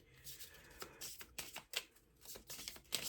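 Playing cards being shuffled in a few quick riffling bursts, close and fairly quiet, with no talking.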